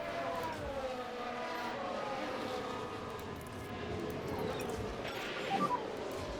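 Race car engines from the F1 Manager 22 game drone in a layered, wavering whine, several cars at mid distance with pitches sliding up and down, steady and fairly quiet throughout.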